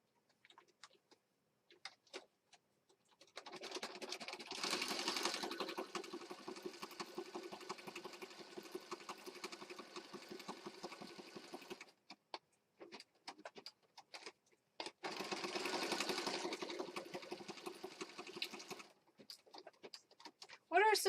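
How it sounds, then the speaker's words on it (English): A sewing machine stitching a Victorian rose-themed junk journal runs in two long steady bursts with a pause between, close and moderately loud, with brief handling clicks around the runs. "as I finish sewing this"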